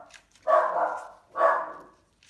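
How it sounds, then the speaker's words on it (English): A dog barks twice downstairs in a house, two drawn-out, somewhat muffled woofs spaced about a second apart, heard from another floor with no talking. "Dog's barking downstairs"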